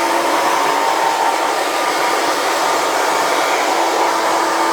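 A hair dryer set to high speed and high heat blows continuously while drying a client's hair in a barbershop, a loud, close, steady whooshing roar with no breaks.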